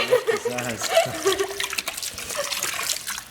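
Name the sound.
water filling a container from a tap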